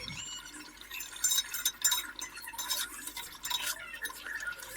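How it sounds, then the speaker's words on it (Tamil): A spoon scrapes and stirs through simmering chicken biryani rice in a cooking pot, making close, irregular metallic clinks and swishes over a low bubbling background. "அது வரைக்கும் கிண்டி விட்டுட்டே இருங்க"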